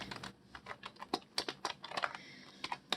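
Rapid typing on a computer keyboard, close and clear, with irregular bursts of key clicks and a few louder strokes over about three seconds, no voices.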